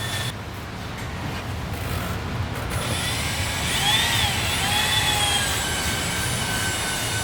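Steady mechanical whirring and grinding of a power drill running continuously nearby while working on a disassembled BMW F80, with a faint rising whine partway through.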